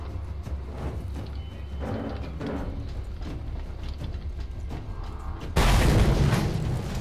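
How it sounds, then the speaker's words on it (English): Mad Max video game explosion as a door is blown up: a steady mechanical rumble and creaking with heavy low booms, ending in a loud, broadband burst of blast noise. "Door explosion required."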